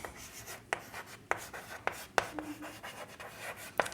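Chalk or pen strikes across a board during a Class 10 maths lesson, a quiet, close series of sharp taps and short scratchy strokes at an irregular pace.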